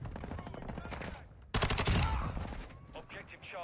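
Rapid automatic gunfire from a first-person shooter video game bursts loud and close, a rattling volley that fades into scattered echoing shots.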